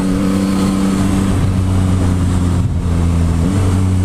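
A 2021 Yamaha MT-09 SP motorcycle engine held at a loud, steady high-revving pitch with a couple of brief shifts in tone, close up and without talk.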